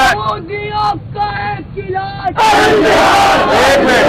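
A large crowd at a political speech in Pakistan chants slogans in loud rhythmic bursts, first in sharp call-and-response shouts, then swelling into a sustained roaring chant that fills the space.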